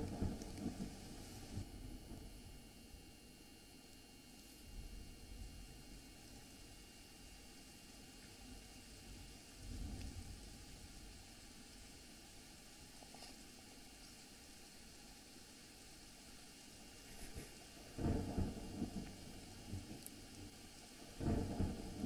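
Monsoon thunderstorm over Saurashtra, Gujarat: faint, steady rain hiss under low rolling thunder rumbles, with a deeper, louder peal near the end.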